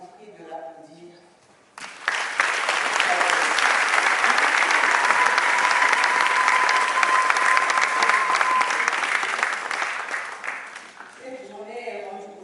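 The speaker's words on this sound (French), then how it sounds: "Je vous prie de l'applaudir." Audience applause in a theatre hall during a women's parliament event, a sudden loud sustained burst of many clapping hands lasting about nine seconds, with speech before and after.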